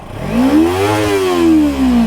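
A Kawasaki Ninja 300 engine revs up close and loud, climbing in pitch, holding high, then easing off in one steady rise and fall with no talk.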